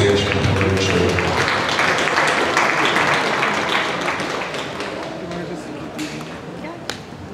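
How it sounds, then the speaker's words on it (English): An audience applauds loudly at a Holstein dairy cattle show for the grand champions, a dense wash of clapping that gradually thins and fades, with some voices underneath. "Everybody, give a big round of applause for these two grand champions of the show."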